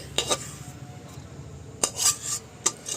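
Carrot halwa being scraped from a pan into a bowl, a few sharp metallic clinks and taps of a spoon against cookware over a quiet background, no talking.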